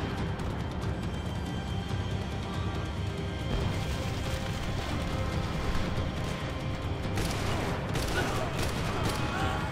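Sustained gunfire fills a Max Payne 3 shootout, with dense overlapping shots, crashes and bursts rolling continuously at loud volume, and voices speaking through the action.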